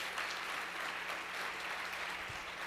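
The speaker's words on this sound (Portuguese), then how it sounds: "Então dê um forte aplauso ao Senhor pela sua vida, então." A church congregation applauds steadily during a sermon, a dense, even patter of many clapping hands heard somewhat distant and low in level, with no voices over it.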